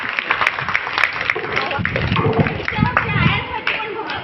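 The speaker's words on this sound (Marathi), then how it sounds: "खूप खूप खूप जोरात टाळ्या झाल्या पाहिजे." Applause from an audience at a children's art exhibition, a steady wash of many hands clapping through the whole span, with voices and cheering mixed in.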